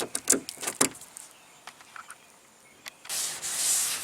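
80-grit sandpaper scuffs against car body metal to feather-edge a rust and dent repair, a few short rasping strokes, then a quiet stretch and a longer, louder sanding run close by.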